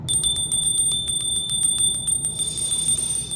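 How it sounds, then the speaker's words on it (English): A small bell rings in a rapid, steady series of bright strikes, loud and close, with its clear tone sustaining throughout. "I'm gonna ring the bell"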